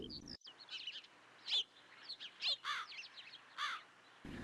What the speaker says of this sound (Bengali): চারিদিকে পাখির কিচিরমিচির শব্দ